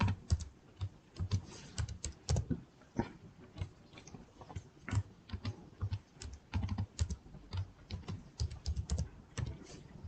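Someone types a password on a computer keyboard, a quiet, irregular run of keystroke clicks in quick bursts and pauses, close by with no talking.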